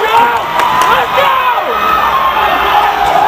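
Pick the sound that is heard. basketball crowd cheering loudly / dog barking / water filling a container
basketball crowd cheering loudly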